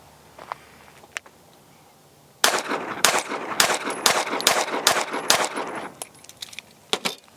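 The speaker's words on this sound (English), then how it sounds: "Alright guys, we got the original Tisas. Let's see how she shoots." A Tisas 2011 pistol fires a rapid string of loud, sharp gunshots outdoors after a few faint clicks, about a dozen reports in quick succession, with no talking.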